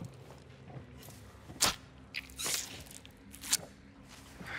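Faint footsteps from the floor above in the video game Hunt: Showdown, a few soft irregular thuds and scuffs spread over a few seconds against a quiet ambient background.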